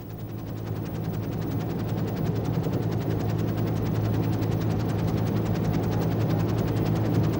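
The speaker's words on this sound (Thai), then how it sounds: "มีลานจอดเฮลิคอปเตอร์ พวกเขาก็อาจจะเดินทางไปทำงานด้วยพาหนะชนิดนี้" A helicopter at an offshore petroleum platform drones steadily with a rapid, pulsing rotor chop and broad engine roar, holding at a constant loudness throughout.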